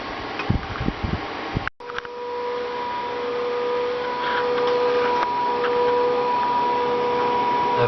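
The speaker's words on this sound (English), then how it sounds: "my air conditioner is running" An off-grid air conditioner running on battery power gives a steady, continuous hum and whir with a faint tonal drone. A brief thump comes near the start, then the hum carries on unchanged.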